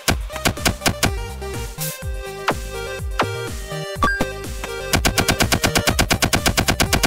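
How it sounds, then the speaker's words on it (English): Rapid bursts of assault rifle fire from a Godot-made 2D action game, loud and close, with stuttering runs of sharp shots that break off briefly and then return as a fast, steady rattle. "And this is what the finished assault rifle looks like."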